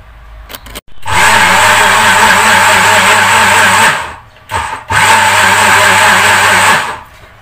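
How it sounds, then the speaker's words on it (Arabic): A kitchen blender roars loudly in two long bursts while mixing sugar and milk, each a steady high-pitched motor whine, with a short pause between them and nobody talking. "هضربهم شويه وارجع لكم علشان الدوشه بتاعت الخلاط"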